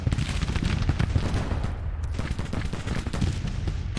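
Civil War-era rifles crackle in a video game battle, dense volleys of overlapping shots popping continuously with deep booms mixed in, loud and unbroken across the whole stretch.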